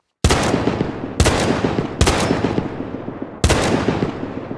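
Four sharp, loud shots from the Peacekeeper mod weapon in Fallout 4, each a hard crack with a long decaying tail, spaced about a second apart with a slightly longer gap before the last.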